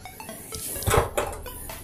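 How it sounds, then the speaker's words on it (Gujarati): A flat griddle pan set down on a lit gas stove while cooking Maggi noodles, giving a single close metallic clunk and scrape against the burner grate, with faint kitchen clatter around it. "આપણે તવી એની ઉપર મૂકી દીધી છે"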